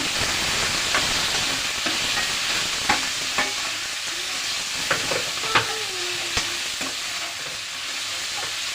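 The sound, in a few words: okra (ladies finger) sautéing in oil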